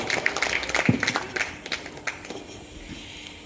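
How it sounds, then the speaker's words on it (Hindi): Moderate audience applause at a religious gathering on the Ramcharitmanas, scattered clapping from a crowd that rises briefly and then fades to a quieter, thinner patter. "मैं जोरदार तालियों के साथ अनुज को आमंत्रित करता हूँ"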